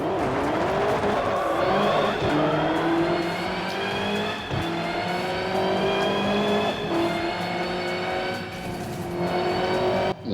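A loud Lancia Delta engine in the video game Forza Horizon roars continuously with a rising and falling rev pitch and a distinct whistling, whining overtone, like a turbocharged rally car.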